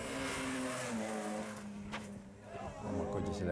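Rally car at a rally sprint, its rear sliding out on a jump: a steady engine drone with a rising whine and gritty tire noise, heard from a distance throughout.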